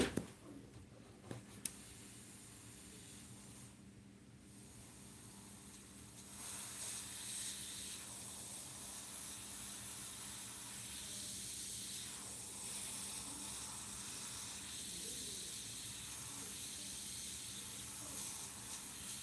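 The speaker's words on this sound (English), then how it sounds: "so let's do a little more spraying" An airbrush sprays Createx and acrylic paint onto a stretched canvas, giving a steady, fine hiss that runs almost unbroken, with a few short clicks and pauses near the start.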